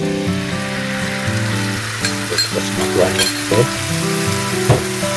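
Sauce poured into a pan of beef paprika with onion and ginger makes a loud, continuous frying sizzle with stirring clatter and spoon taps, while a voice speaks briefly.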